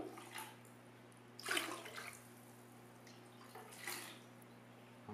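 Pure fresh water being poured into mixed saltwater for a saltwater aquarium water change, heard as quiet splashing and trickling in two separate bursts over a steady low hum.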